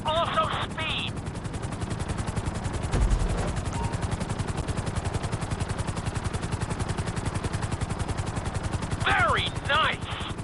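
A helicopter in Grand Theft Auto 5 flies with a steady, fast rotor chop that continues through the whole stretch at moderate loudness, and a few short chirping game sounds break in near the start and end.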